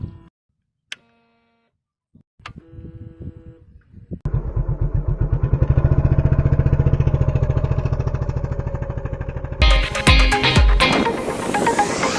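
A Yamaha FZ-X motorcycle gives a few sparse clicks and brief starter sounds, then its engine fires and settles into a close, steady idle with an even, rapid thumping pulse. The engine sound grows harsher and louder near the end.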